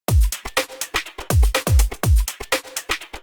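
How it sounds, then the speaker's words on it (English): A punchy electronic drum loop repeats with booming low kicks and crisp snappy hits in a tight, steady groove, loud and upfront. "the overall drum loop sounds like this once again."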